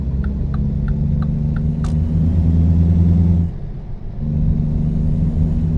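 Simulated truck engine from American Truck Simulator, a steady low droning rumble with harmonic hum that holds loud throughout, briefly dipping before resuming, with faint rhythmic ticks early on.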